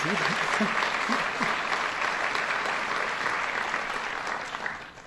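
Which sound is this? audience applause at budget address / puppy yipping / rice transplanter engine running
audience applause at budget address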